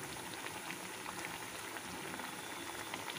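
Tapioca cutlets coated in bread crumbs frying in hot oil, a dense, even bubbling sizzle, soft and continuous with no voices.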